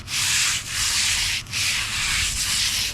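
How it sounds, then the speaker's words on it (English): A sanding pad smoothing the scraped cast iron of a drill press during a machine tool restoration, steady close hissing strokes in a back-and-forth rhythm with two brief pauses, no talk. "Then take the sanding pad and smooth it."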